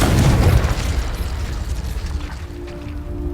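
A Confringo explosion spell goes off in Hogwarts Legacy, one loud booming burst at the start that fades into rumbling debris and a faint tonal hum.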